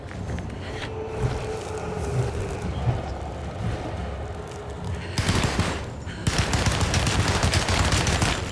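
Rapid gunfire from the Alone in the Dark video game, a steady crackling volley of shots that grows louder and denser in the final seconds, heard alone without talk.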